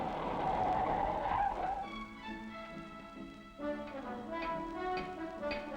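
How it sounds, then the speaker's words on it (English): A 1958 MGA Twin Cam with Dunlop disc brakes on all four wheels stops hard: a loud, sustained tire squeal and skid rides over steady car noise for several seconds, with no talking. "the MGA twin cam has Dunlop disc brakes on all 4 wheels"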